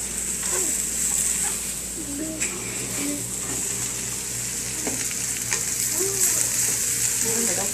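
Tofu frying and sizzling in a wok during a Vietnamese chow mein stir fry with beef and noodles, a loud continuous crackling sizzle with scraping stirring sounds and brief clatters, close up.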